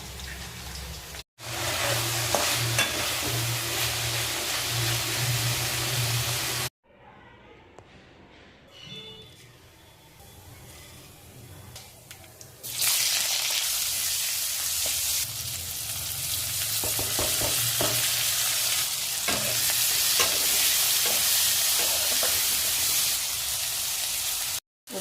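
Small chunguri fish frying in a pan with onion, tomato and green chili, giving a loud continuous sizzle that drops away briefly in the middle and then returns strongly, with occasional stirring.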